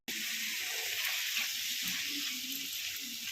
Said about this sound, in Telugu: వాటర్ అంతా పోయే వరకు వేయించుకోవాలండి